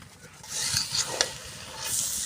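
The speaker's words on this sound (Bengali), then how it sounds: "আজকে সবজি খিচুড়ি দেখেন খুব সুন্দর করে কিন্তু কষানো হচ্ছে" Vegetable khichuri sautéing and being stirred in a pot over a clay stove, a steady close sizzle with a few scraping stirs rising over it, no talking.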